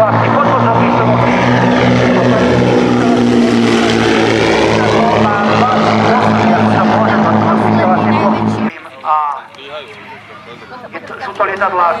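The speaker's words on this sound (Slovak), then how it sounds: "Takže naspäť tejto L200 len na minimálnej rýchlosti vysunuté klapky, podvozok vysunutý." An L-200 propeller plane flying slowly at minimum speed at an air show, flaps and landing gear extended, its loud droning engine steady for most of the span before cutting away, with someone commenting over it.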